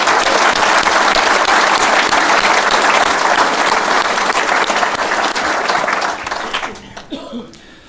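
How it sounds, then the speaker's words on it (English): An audience in a marquee at a reunion gathering gives loud, sustained applause that fills the space for several seconds, then thins out and fades to scattered claps and murmuring. "a round of applause please for them"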